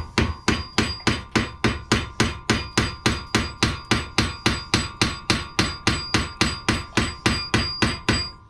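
Repeated hammer blows strike an impact screwdriver set in a blade screw on a vintage Ransomes Marquis cylinder mower, about thirty sharp, evenly spaced metallic whacks in a steady, loud rhythm with no talk.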